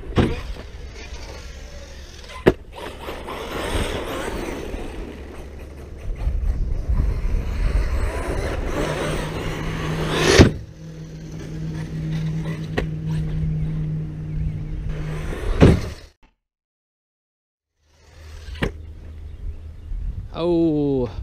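Arrma Outcast 6S RC truck driving and landing jumps, with a whining electric motor, rough gravelly rolling and sharp thuds on impact, a stretch of silence near the end, then a high rising whine.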